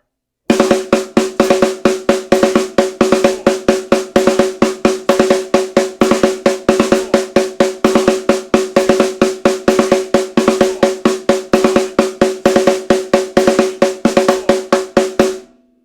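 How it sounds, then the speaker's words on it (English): Snare drum plays a steady stream of crisp, evenly spaced strokes grouped in a 4-4-3-5 phrase, close and loud with no talking. "On just the snare drum with counting out loud, it sounds like this."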